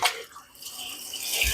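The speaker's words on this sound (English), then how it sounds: "open this valve, which is going to let cold water flow through the unit and come out this hose into this bucket" Cold water runs through a tankless water heater during descaling, out a hose and into a bucket, a steady close hiss and splash with a few drips, growing slightly louder toward the end, with no talk.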